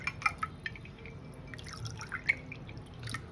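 Cold water goes into a glass holding fennel syrup for a summer sherbet, heard as soft, quiet drips and small trickles with a few bright clinks against the glass.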